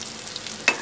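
Ground spice masala frying in oil for chole chana masala on a lowered gas flame gives a soft, steady hiss with one brief crackling burst near the end.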